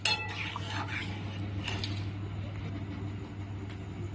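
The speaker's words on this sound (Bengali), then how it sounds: "ডালটা ঢেলে দিয়েছি একটু নেড়ে ছেড়ে নিলাম" A spoon scraping and clinking against a pot while moong dal with bottle gourd is stirred, a few close metallic knocks early on, then quieter steady stirring over a low hum.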